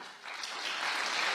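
An audience breaks into applause, a dense wash of clapping that swells and holds steady, loud and close.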